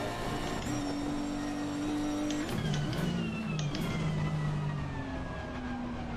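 A race car engine at full throttle around Silverstone in Assetto Corsa Competizione in the wet, a steady high droning whine with shifting pitch as revs change, close and continuous with no talk.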